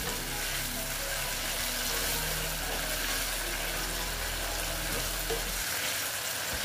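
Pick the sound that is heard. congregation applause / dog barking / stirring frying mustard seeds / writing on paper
stirring frying mustard seeds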